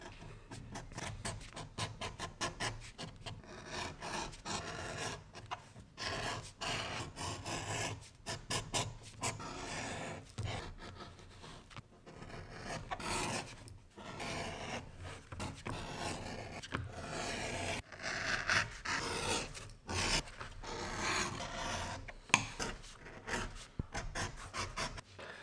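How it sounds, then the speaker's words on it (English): Edge beveler shaving the edges of leather pieces for a tool bag, a steady run of soft, close scraping strokes repeated with a rough rhythm and no talking. "So I'm just gonna bevel the edges so that they have a nicer finish"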